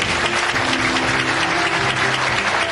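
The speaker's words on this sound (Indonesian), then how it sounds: "kita tepuk tangan dengan penuh rasa syukur atas kehadiran tamu-tamu kita" A large audience applauds its guests with thankful enthusiasm, a loud, dense and unbroken roar of clapping hands that fills the whole moment, with faint crowd murmur beneath.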